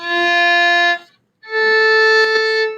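A bowed string instrument plays two sustained notes separated by a short silence, the second a whole step higher as the player shifts up to third position on the fingerboard.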